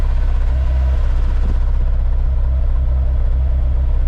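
A Honda S2000 engine idles with a misfire, a steady low rumble with uneven rhythm and a faint stumble now and then, close by and continuous.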